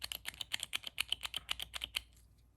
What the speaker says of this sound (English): So usually when you click a few times, it's always going to be a few more times to initially get the product up.